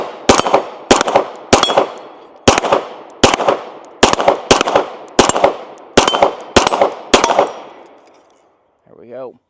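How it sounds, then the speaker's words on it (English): Atlas Titan RDS 2011 9mm pistol firing 115 grain rounds: about a dozen loud, sharp shots in quick pairs and singles, each ringing briefly, followed by silence and a short voice at the end. "So let's go ahead and put a few more rounds down range."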